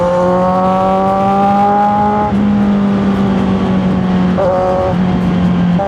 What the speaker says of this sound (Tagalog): Si NLEX traffic, lahi lang naman lagi dito. Lagi na lang dito yung traffic.